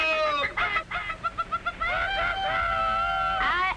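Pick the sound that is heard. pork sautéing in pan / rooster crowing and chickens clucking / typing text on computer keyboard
rooster crowing and chickens clucking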